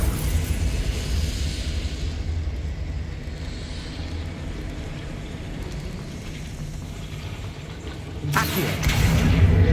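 Confringo fire spell blast in Hogwarts Legacy, a dull rumbling burst that builds to a louder crackling explosion near the end, with no voices.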